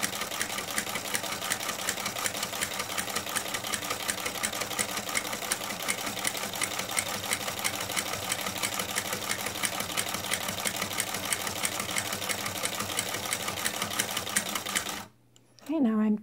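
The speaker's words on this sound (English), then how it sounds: "I am going to make another pass with the stitching." A Singer sewing machine fitted with a buttonholer attachment stitches a buttonhole in a fast, even mechanical chatter that runs steadily, then stops near the end as a voice begins speaking.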